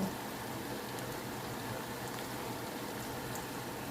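Pasta boiling in a pot gives a steady, even bubbling hiss that stays constant and fairly faint for the whole few seconds, with no voices.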